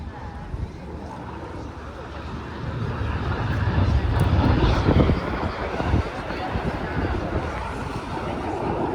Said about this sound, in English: Each aircraft pulling up to 6G as they turn back towards the display line to complete the manoeuvre called Cyclone.